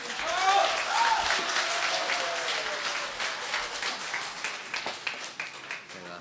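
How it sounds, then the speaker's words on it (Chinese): Audience applause for a crosstalk (xiangsheng) duo as they come on stage, a broad wash of clapping that starts strong and slowly thins over several seconds, with voices and stage sounds mixed in. "朋友们，准备好您的掌声，"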